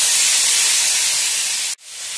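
A wok of dog claw beans, or velvet beans, being stir-fried roars with a loud, close, continuous sizzling hiss that cuts off sharply for an instant, then quickly swells back. No voices are heard.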